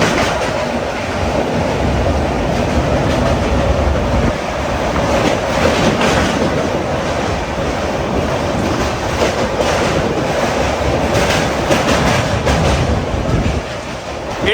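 A train crosses the Godavari river bridge with a loud, continuous rumble and rattling wheel clatter heard close up throughout, with no talk.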